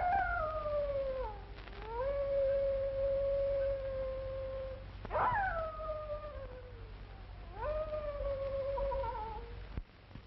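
A dog lets out three drawn-out howls, each sliding up and then holding a mournful note. The howls are loud and close over a low background hum.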